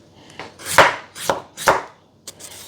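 A knife cuts mango into julienne strips on a board, making about four distinct, close chopping thuds at an uneven pace, with a softer tap near the end.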